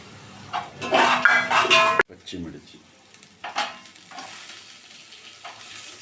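Whole garam masala spices fry and sizzle in a hot pan, stirred with a utensil in a loud burst over the first two seconds, then softer intermittent sizzling and scraping continue.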